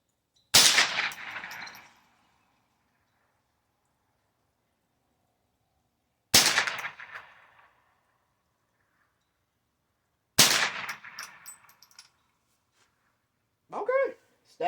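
A Smith & Wesson 15-22 AR-15-style rifle in .22 LR fires 40-grain Federal Automatch: three sharp, loud cracks spaced several seconds apart, each trailing off quickly. A brief voice follows at the end.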